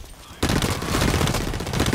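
A rapid burst of machine pistol gunfire in the Blacklight Retribution video game starts abruptly after a quiet moment and stays loud and continuous as fast, dense shots.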